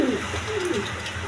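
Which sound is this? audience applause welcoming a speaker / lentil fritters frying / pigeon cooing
pigeon cooing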